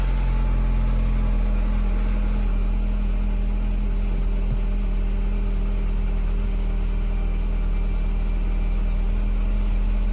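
A Mini Cooper engine idles after a rocker cover gasket repair while the engine warning light stays on, giving a steady, continuous hum with no change in pace and no talking.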